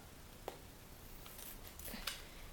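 Scissors snipping open a tea packet, a few faint, crisp cuts spaced apart against quiet room background.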